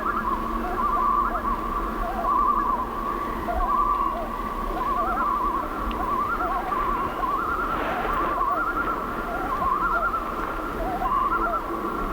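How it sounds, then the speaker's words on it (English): An owl hoots repeatedly at night in a steady, spaced rhythm at moderate distance over a constant background hum, with no one talking, at a lake in Algonquin Park. "And there's an owl hooting,"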